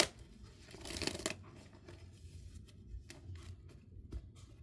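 Oracle cards being shuffled by hand make soft, close papery riffles and taps, with a brief louder burst near the start, then scattered quiet rustles.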